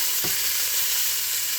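Meat for a Moroccan tagine fries in a pan with a steady hissing sizzle, briefly punctuated by a low thump as a piece shifts, with no talk.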